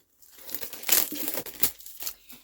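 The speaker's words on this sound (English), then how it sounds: "I'm going to take the foil off" Foil wrapping pulled off a book during an unboxing: a couple of seconds of close, loud crinkling and tearing rustles in irregular bursts, with no voices.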